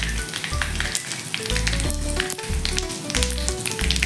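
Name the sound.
asafoetida sizzling in hot oil tempering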